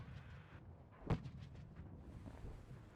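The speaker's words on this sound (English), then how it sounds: "Joe is just keep on pounding with the mortars" A single heavy mortar blast booms out in WARNO, one sharp thud with a rolling tail, over a low, murky battlefield rumble that sounds faint and distant throughout.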